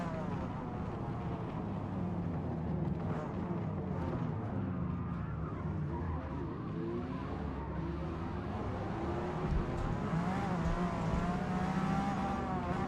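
A V12 engine in a racing game, steady revving drone rising and falling in pitch as the car accelerates and shifts, fairly quiet and continuous throughout with no talking.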